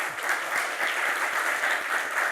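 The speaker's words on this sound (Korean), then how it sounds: "우리 박수로 또 환영하겠습니다." A church congregation applauds to welcome visiting families, a steady wash of clapping from many hands throughout, with no talking.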